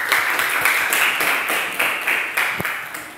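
A group claps together in a busy, continuous wash of applause at moderate volume.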